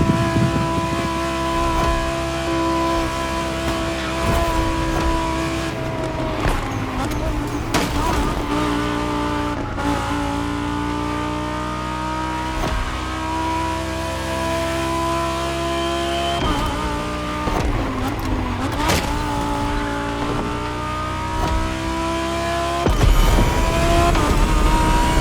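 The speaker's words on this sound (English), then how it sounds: "Gonna push that car to its max speed or what?" Race car in The Crew Motorfest accelerating hard, a steady loud engine drone with rising harmonic tones running throughout, briefly dipping and surging near the end, with occasional faint tire noise.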